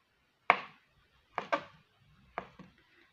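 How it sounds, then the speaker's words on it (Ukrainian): A knife chops cheese into small pieces on a board: four sharp, fairly quiet knocks come in an uneven rhythm, two of them close together, with no talking. "Далі я наріжу також трошки дрібнішими частинками сир"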